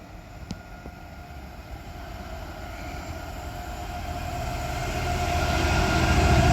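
A Class 66 diesel freight train approaches through Lichfield Trent Valley station with a steady rail rumble and engine drone. The sound grows gradually louder as it nears, with no voices.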